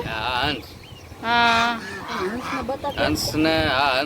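Loud, harsh honking calls from several ducks at Khijadiya Bird Sanctuary near Jamnagar, coming in bursts with short gaps between them.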